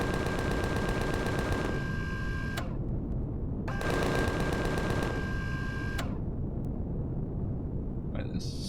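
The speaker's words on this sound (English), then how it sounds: "Somebody firing at me still" Enemy gunfire in the video game Empyrion Galactic Survival comes in two long, rapid automatic bursts separated by a short pause, loud over a dense, noisy background.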